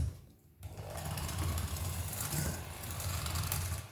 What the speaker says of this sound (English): So I'm going to use my electric whisk